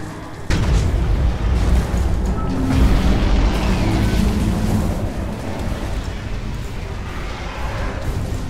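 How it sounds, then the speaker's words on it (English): A dual cannon fires in a space fleet video game, a heavy boom that opens into a long, loud, rumbling roar of weapon fire and explosions, sustained and dense for several seconds. "Fire the dual cannon dead on."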